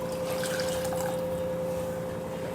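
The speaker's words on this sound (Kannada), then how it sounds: "ಇವಾಗ ಇದಕ್ಕೆ ನಾನು ನೀರು ಹಾಕ್ಕೊಳ್ತಾ ಇದ್ದೀನಿ." Water poured into a pot of rice and masala for hotel-style kushka rice, making a steady close rushing splash that runs unbroken for about two and a half seconds with no voices.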